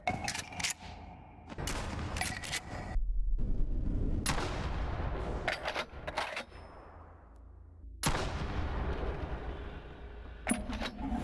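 An M870 pump-action shotgun fired in a VR game, with several loud, sharp blasts, each followed by a short decaying tail. There are gaps between shots and brief quieter stretches.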